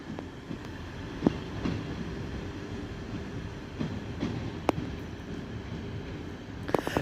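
An East Midlands Railway passenger train moves through Sheffield station, producing a steady low rumble with intermittent metallic clicks and wheel knocks from the track.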